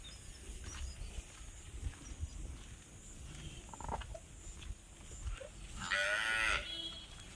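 A dairy cow on a farm gives a short, loud moo near the end, with a low, murmuring background of farm activity and shuffling before it, and no clear speech.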